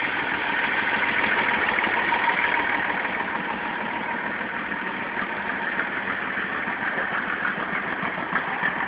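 A Mercedes-Benz 1113 truck engine with a straight-pipe exhaust idles and rumbles steadily with a raw, open drone, close and loud throughout, with no voices.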